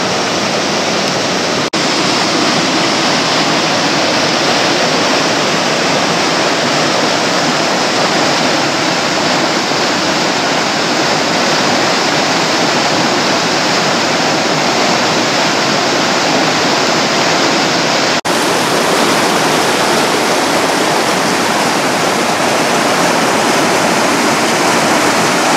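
A creek beside a canyon path rushes in a loud, unbroken wash of white noise that stays steady and close for the whole stretch, with no voices.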